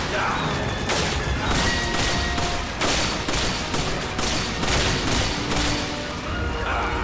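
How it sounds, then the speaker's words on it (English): Rapid gunfire aimed at Wesker during a Resident Evil 5 boss battle, a dense, loud barrage of repeated shots and impacts that carries through the whole stretch with game noise beneath. "Let's shoot him in the heart now."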